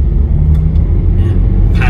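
A 2016 Jaguar F-Pace 2.0d 180 AWD diesel pulls away, its engine giving a loud, steady low rumble heard close from inside the car.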